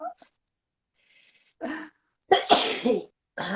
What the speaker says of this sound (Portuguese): eu quero espirrar e não tô conseguindo